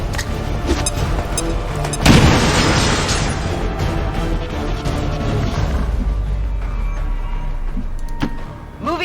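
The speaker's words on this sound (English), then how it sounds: "You weren't kidding when you said those tanks could explode." Explosions and heavy gunfire from a tank blowing up in the game XCOM 2, with a loud blast near two seconds leading into a dense, sustained roar of combat noise.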